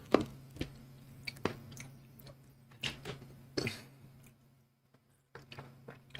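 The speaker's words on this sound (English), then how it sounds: "That was a loud crunch." Loud, close crunching while chewing food, with sharp irregular crunches spread across the clip, some pauses of near silence between bites.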